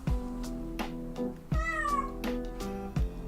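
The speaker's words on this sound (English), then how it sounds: "Are you good, kitten? You're being so loud." A kitten meows loudly and insistently in a dark room, three long cries spaced about 1.5 seconds apart, close to the listener with no talking over them.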